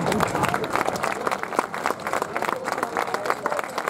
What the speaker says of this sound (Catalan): Un fort aplaudiment al senyor Agustín.